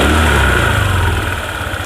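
A Honda ADV 150 scooter with a rough-sounding CVT revs close and loud, a steady engine drone that eases slightly as the throttle drops.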